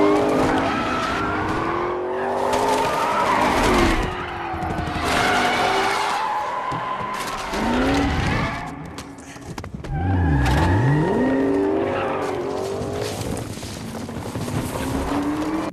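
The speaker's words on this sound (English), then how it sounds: "it's Will Smith driving around in his muscle car, trying to hunt deer while driving" Muscle car from the film I Am Legend roaring past with revving engine and sustained tire squeals and skids, loud and close, with swerving pitch sweeps over a steady engine drone.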